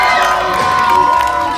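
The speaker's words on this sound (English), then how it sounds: "Keep it going for your stars. Nice and loud." A hypnosis show audience roars with loud, sustained cheering, shouts and whoops rising together in a thick, continuous burst of crowd noise.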